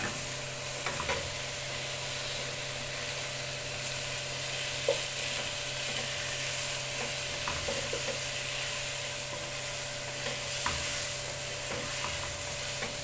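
Meat browning in a pan with black pepper, cinnamon and ginger, a continuous even sizzle with occasional soft clicks and stirring scrapes, heard alone at close range.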